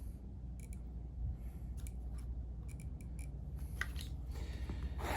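Scissors cutting strips of quilt fabric for a large quilt's binding, giving a series of crisp, close snips in uneven clusters over a low, steady room hum.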